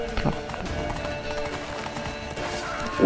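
Horse hooves in The Witcher 3: Wild Hunt, a short run of soft rhythmic clip-clops at moderate distance under a brief voice, ending in a louder bump.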